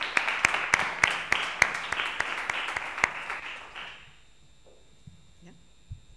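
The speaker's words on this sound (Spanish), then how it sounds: "Otro aplauso para él, por favor" Audience applause at a World Water Day event on 22 March, a scattered crowd clapping with a few loud close claps, fading out after about four seconds into near quiet with faint stray noises.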